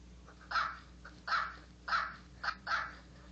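A dog sound effect played back from an iPod: five short, evenly spaced barking bursts, clear and fairly loud over a faint hum.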